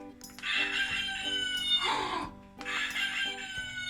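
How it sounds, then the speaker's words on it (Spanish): A rooster crows twice in a row, each a loud, drawn-out harsh cry lasting over a second, heard close and alone. "¿Qué hace el gallo?"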